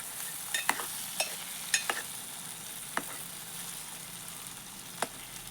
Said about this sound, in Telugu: తీసే ఏది టమాటాలు వేసుకొని కలబెట్టుకున్నాడు.